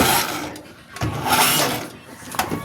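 A stiff kick starter being worked on a Yamaha YTX motorcycle, giving a rough, grinding mechanical rasp in two or three surging strokes, close by and fairly loud.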